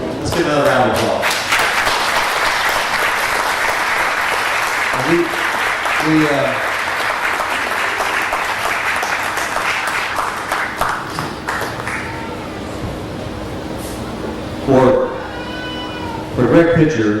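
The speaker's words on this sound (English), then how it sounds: "Let's give another round of applause." A crowd at a talk on Native perspectives of the Lewis and Clark expedition gives a sustained round of applause, with people speaking over and after the clapping as it dies away.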